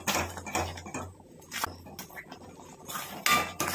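Banana halwa with jaggery being stirred in a pan, a spoon scraping and clinking against the metal in several uneven bursts with brief quiet gaps, close and moderately loud.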